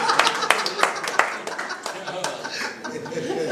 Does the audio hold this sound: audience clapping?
yes